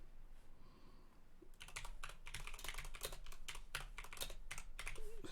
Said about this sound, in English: I type very slowly.